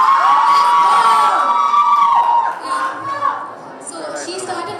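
A crowd at a college day programme cheers and shouts for a performer, loud at first and then fading out as scattered voices and chatter take over.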